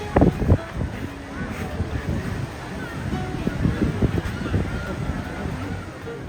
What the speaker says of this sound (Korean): 바람 소리와 파도 소리